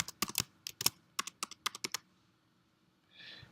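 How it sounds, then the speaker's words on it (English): Someone types a password on a computer keyboard: about a dozen quick, crisp, close key taps in an uneven burst, then a pause before a soft brushing sound. "You type in your normal password."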